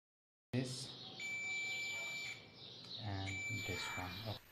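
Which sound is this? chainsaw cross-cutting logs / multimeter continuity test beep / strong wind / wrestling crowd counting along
multimeter continuity test beep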